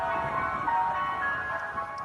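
A parade of many ice cream trucks all playing their different jingles at once, a steady, overlapping wash of tinkly music that carries on without pause.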